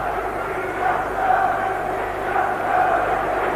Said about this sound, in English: Big reaction from this crowd.